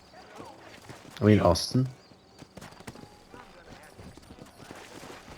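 Horse hooves clip-clop steadily in Red Dead Redemption, a light walking rhythm that runs throughout, with a voice speaking loudly over it for a moment.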